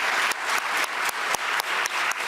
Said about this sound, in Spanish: Luego de un prolongado y enérgico aplauso del Parlamento de Noruega